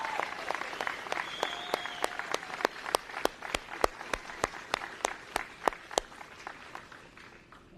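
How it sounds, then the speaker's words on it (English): A small audience at a homecoming ceremony for a returning urban search-and-rescue task force claps in sparse, distinct, evenly spaced hand claps that keep going at a steady pace for several seconds. "I think they all deserve a round of applause."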